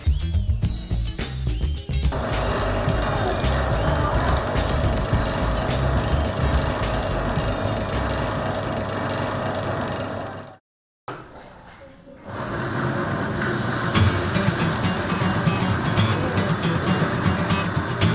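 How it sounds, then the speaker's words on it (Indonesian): A spinner machine drying pineapple peel floss to remove oil gives a steady, loud, dense whirring drone. It cuts out briefly partway through, then starts again, with a voice talking over it. "adonan abon pun dikeringkan dengan bantuan alat khusus atau biasa dikenal dengan spinner agar kadar minyaknya hilang"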